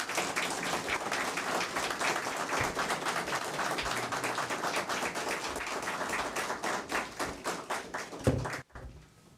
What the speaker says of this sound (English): give these folks a round of applause for their hard work every day